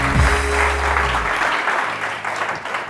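Studio audience on a TV One morning show claps for a guest named Shah Nazir, with continuous, fairly loud applause and a low hum underneath in the opening second.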